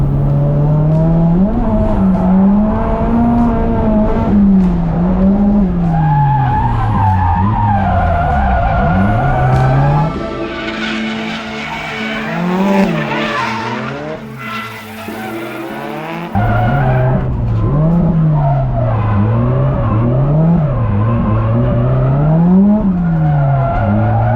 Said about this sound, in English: We're drifting in Ebisu.